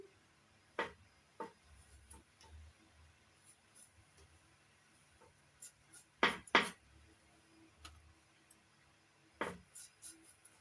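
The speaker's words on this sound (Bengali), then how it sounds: "প্রথমে গন্ধরাজ লেবুটা একটু কেটে নিচ্ছি" A knife slicing through a gondhoraj lemon on a cutting surface for a raw mango mix: a few sparse, sharp cuts and taps spaced apart, with a close double stroke midway, against a quiet kitchen background.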